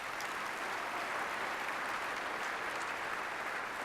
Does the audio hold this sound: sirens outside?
no